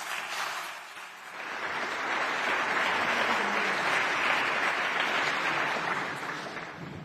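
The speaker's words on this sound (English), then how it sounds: "join me in a warm applause" An audience at an annual conference gives a speaker a sustained round of applause, steady and full-bodied, swelling after the first second and holding evenly throughout.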